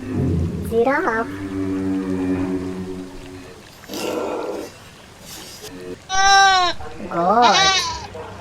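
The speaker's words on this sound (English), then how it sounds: "Goat." A goat bleats repeatedly in wavering, nasal cries, some drawn out and some short and rising, close and fairly loud with brief pauses between calls and no talking.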